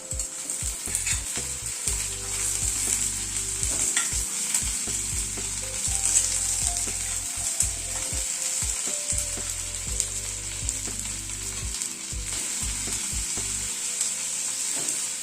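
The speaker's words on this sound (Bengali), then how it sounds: "গ্যাসের ফ্লেমটাকে হাই করে দিয়ে এই মিনিট 2 মতো একটুখানি নাড়াচাড়া করে নিলাম।" Egg and diced capsicum stir-fry on a high gas flame, a loud continuous sizzle with frequent spatula scrapes and clacks against the pan, close up and without speech.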